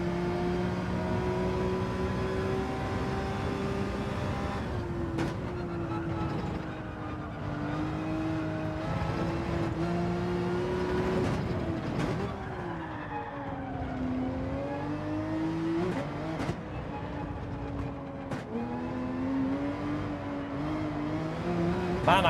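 A Porsche engine in the Gran Turismo 7 racing game revs steadily, its pitch rising and falling through throttle changes and gear shifts, loud and continuous for the whole stretch.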